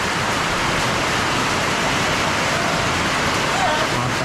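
Heavy rain, the first downpour of the New Year, pours down close by in a dense, unbroken hiss that stays level throughout.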